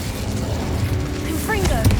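An Incendio fire spell is cast in the video game Hogwarts Legacy: a dense, loud burst of whooshing magical fire and mechanical effects, with a brief voiced sound near the end.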